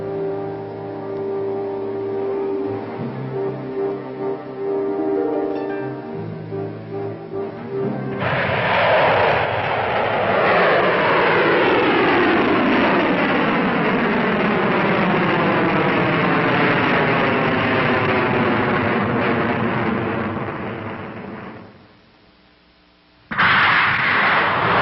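A Pershing military missile roars off on a test launch at dawn, a sustained loud rumbling blast that swells and holds for over ten seconds before fading away, with a thinner mechanical background before ignition.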